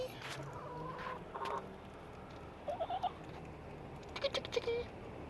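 Chickens clucking close by in short bursts of soft, broken clucks, with quiet gaps between calls and a faint background hum.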